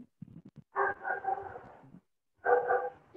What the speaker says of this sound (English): I can hear some dog barking in the background,